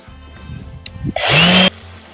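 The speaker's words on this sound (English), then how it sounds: "And then we're going to sand it." A power sander runs against wood in a short close burst of about half a second of loud broadband grinding, preceded by quieter handling knocks and ending abruptly.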